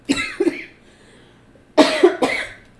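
Two separate bursts of coughing, each a quick pair of harsh coughs, close and loud with a quiet pause between.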